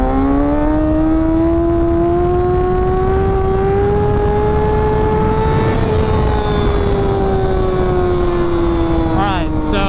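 A 600cc sportbike engine holds a loud, close, steady high-pitched drone, rising slowly and easing slightly during a wheelie, then a quick blip near the end.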